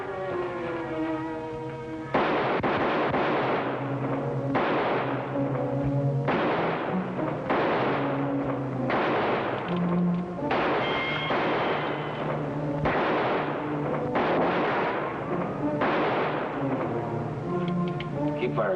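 Gunfire in an old western TV episode, with a series of loud repeated shots or booms spaced a second or two apart over a sustained musical score.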